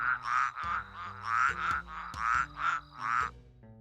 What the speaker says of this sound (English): Does that mean that I can actually like play the frog sound?